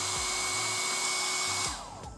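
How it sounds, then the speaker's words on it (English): Electric hair dryer blowing steadily at close range as a heat source for a temperature sensor, a loud continuous airy roar with a motor hum that drops slightly as it fades near the end. "So let me turn on the dryer."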